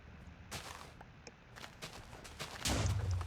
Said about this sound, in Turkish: Patlama sesleri geliyor ama umarım yani kötü bir şeyler olmuyor.